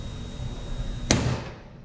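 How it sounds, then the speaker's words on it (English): A single sharp, loud metallic strike from a solid ball peen hammer lands near the middle of a quiet workshop moment, ringing briefly before fading. "You got a good solid ball peen hammer."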